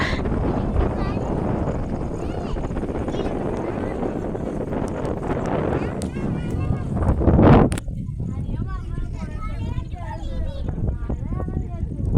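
Strong wind on top of Malampuzha dam in Kerala buffets the microphone in rough, roaring gusts while a person talks over it, with a brief louder blast partway through.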